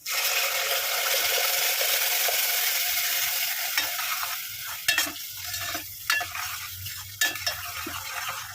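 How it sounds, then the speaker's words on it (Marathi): Ground chutney with garlic and a little turmeric sizzling in hot tempering oil for a Malvani fish curry, a loud hiss at first that eases as the mixture is stirred, with a few scraping clatters of the spoon against the pan. "आपण जी चटणी बारीक करून घेतला ती फोडणीत घालून घेऊ."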